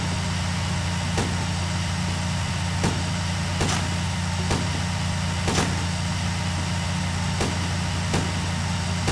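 Steady hum of a car engine driving in the Sam & Max Situation: Comedy game, with a constant low rumble and faint periodic clicks. No one talks over it.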